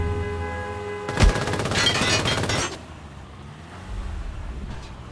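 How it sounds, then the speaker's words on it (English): A burst of rapid gunfire in the online shooter Ring of Elysium, loud and dense for about a second and a half, then fading into quieter ambient noise with a few distant pops afterward. "Oh, he's shooting at me."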